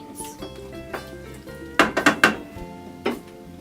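Metal spoon scraping and knocking against a pot while diced tomatoes are stirred into a pasta sauce with greens and beans, a string of close, sharp clinks clustered in the middle and one more near the end.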